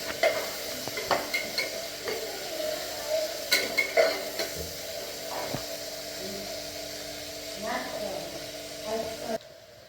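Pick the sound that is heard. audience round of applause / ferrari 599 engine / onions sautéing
onions sautéing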